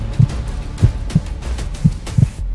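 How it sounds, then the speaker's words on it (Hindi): Heartbeat sound effect, five deep, muffled low thumps at a quick, slightly uneven pace, close and prominent, with no voice over them. "दिल की धड़कनें तेज हो गई"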